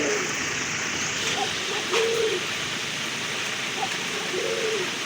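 Rajgolla pigeons coo in a close, low, repeated rumbling pattern of several calls over a steady background hum.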